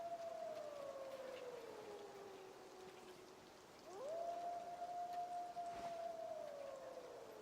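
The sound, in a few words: gray wolf howling in video game Way of the Hunter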